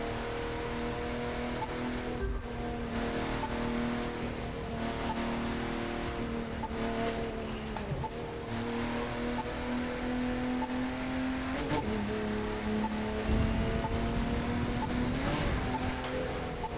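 A tuned Porsche in the racing game The Crew 2 accelerates under nitro boost, its engine a steady loud drone with shifting pitch that holds throughout, briefly dipping around gear changes.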